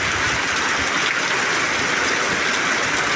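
Heavy monsoon rain pours down in Bagdana, a dense, steady broadband hiss of water streaming and splashing with no pauses, loud and close throughout.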